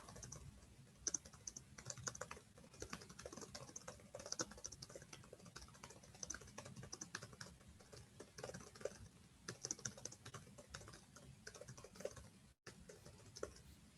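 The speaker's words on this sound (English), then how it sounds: "I hear you typing." Steady, rapid typing on a computer keyboard, close and fairly quiet, a continuous patter of key clicks with no talking.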